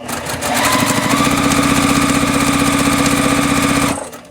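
A sewing machine stitches quilt block seams in a loud, fast, even mechanical chatter for several seconds, then abruptly stops.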